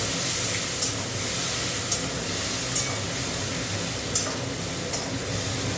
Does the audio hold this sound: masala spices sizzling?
yes